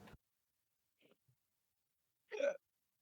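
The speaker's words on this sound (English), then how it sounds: "I had the hiccups and a burp." A single sharp hiccup breaks an otherwise quiet stretch, preceded by a couple of tiny faint clicks, close and loud on its own.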